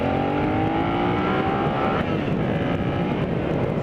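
A motorcycle pulls into traffic with a steady roaring engine and rushing road and wind noise, the pitch sliding as it accelerates.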